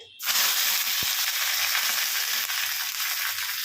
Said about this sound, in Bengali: ঘিটা গরম হলে তার মধ্যে কটা কারি পাতা, আমার গাছেরই আছে, তুলে ধুয়ে নিয়েছি, দিয়ে